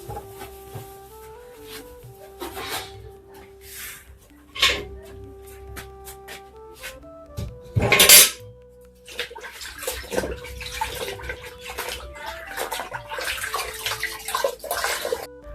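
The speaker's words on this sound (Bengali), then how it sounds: "গ্যাসটা একটু পরিষ্কার করে নিচ্ছি।" Scrubbing and washing a dirty gas stove in a home kitchen: intermittent rubbing and wiping strokes, water splashes and clatters of handled parts, with one loud rushing burst partway through, irregular and close.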